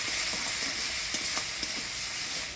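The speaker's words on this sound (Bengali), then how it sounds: "ধনে জিরা লঙ্কা বাটা দিব হলুদ লবণ দিয়ে নাড়াচাড়া" Coriander, cumin and chili paste with turmeric and salt stirred in a pan for a village-style Bengali curry: a steady close sizzle with soft scraping strokes of the spoon, continuous and even throughout.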